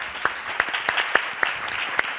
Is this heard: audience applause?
yes